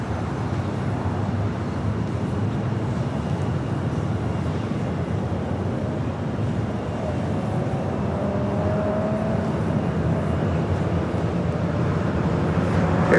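An American Airlines A321 jet takes off at LAX, a broad, sustained roar with a faint rising whine, heard from a distance and holding steady throughout.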